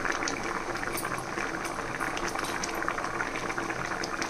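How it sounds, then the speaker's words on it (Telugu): Nellore-style fish curry with mango pieces simmers on a medium flame, a steady close bubbling and popping of thick liquid throughout with no talk. "ఇప్పుడు మీడియం ఫ్లేమ్ మీద నిదానంగా ఉడికించాలన్నమాట"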